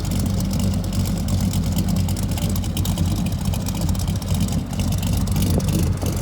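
A 385 stroker V8 in a 1992 Chevy C1500 pickup with a 276 Extreme Energy hydraulic roller cam idles steadily, a loud, continuous low rumble with a faint lope, muffled by non-chambered mufflers.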